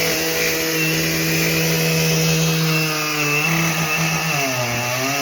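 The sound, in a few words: Husqvarna chainsaw cutting through a log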